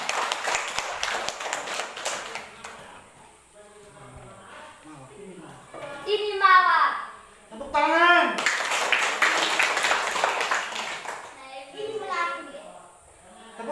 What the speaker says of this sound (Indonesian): Tepuk tangan untuk kedua anak ini. Tepuk tangan semua.